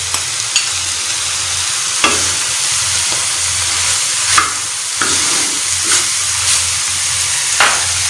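Spicy keema with tomatoes sizzles loudly on a tawa over a medium flame, a constant close frying hiss broken by sharp scraping clicks of a spatula as the mince is stirred every second or so.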